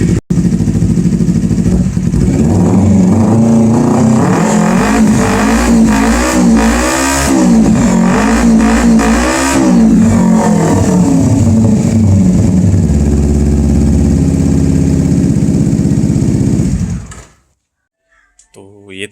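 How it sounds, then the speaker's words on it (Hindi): A nearby 2011 Kawasaki Ninja 250R motorcycle engine is revved repeatedly, rising and falling in sharp bursts before dropping back, then cutting to near silence at the end. "इसका साउंड मैं आपको रैप करके बताता हूँ।"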